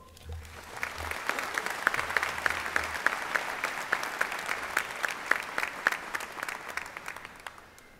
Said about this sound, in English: when people clap before I talk